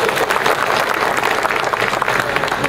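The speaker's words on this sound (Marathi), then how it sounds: "एकदा जोरदार टाळ्या वाजवा." A large crowd at a political rally in Akluj claps loudly for a mayoral candidate, a dense, unbroken roar of applause from start to finish with no clear speech.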